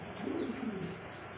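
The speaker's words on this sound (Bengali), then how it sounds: "চল্লিশ জোড়া কবুতর আছে" Pigeons kept in a loft cooing, a low throaty coo rolling for about half a second and then softer, close by with no talk.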